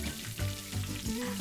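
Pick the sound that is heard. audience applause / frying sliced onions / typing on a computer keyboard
frying sliced onions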